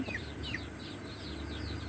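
A hen clucks in short repeated bursts beside a newly hatched Pekin duckling, close and clear over a faint farmyard hum, with no talking.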